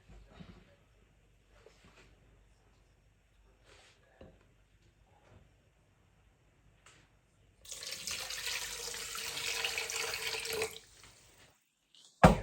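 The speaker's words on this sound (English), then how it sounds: "Put enough water to cover the chicken, then let it boil." Tap water runs steadily into a cooking pot over chicken breast for Filipino chicken arrozcaldo, a loud gush lasting about three seconds after quiet kitchen clatter and soft knocks.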